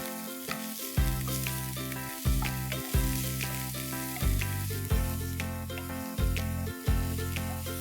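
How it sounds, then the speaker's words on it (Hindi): Finely chopped onions sizzle steadily in hot oil in a pan while a spoon stirs them in regular strokes, each stir causing a brief scraping surge. Background music plays underneath. "प्याज को अच्छे से चला लेंगे और हल्का गुलाबी रंग करेंगे।"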